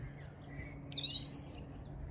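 Small birds chirp faintly in a quiet garden with a bird feeder, a few thin high calls over a low background hum.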